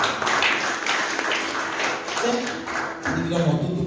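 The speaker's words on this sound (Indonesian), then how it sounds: "Yang mengerti, tepuk tangan buat Tuhan Yesus" Congregation clapping during a Sunday worship service at a church in Makassar, a steady dense patter of hands filling the room throughout, with a voice speaking over it near the end.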